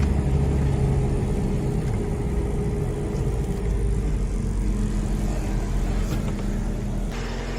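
A car engine with an exhaust leak idles steadily, a loud, continuous low rumble with a raspy, droning edge that holds throughout, close up and with no one talking.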